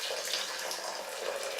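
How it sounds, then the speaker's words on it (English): Boiling water from a kettle pours into two tins in a steady, close, hissing stream that runs unbroken and alone. "fill the two tins with some boiling water, as you can no doubt see and or hear."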